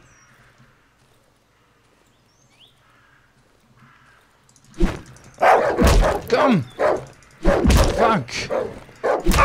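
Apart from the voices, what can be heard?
dog barking in the video game Darkwood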